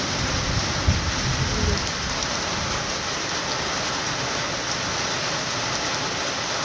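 Steady rain falls on garden plants and jasmine buds, a dense, even close patter; thunder is not distinct.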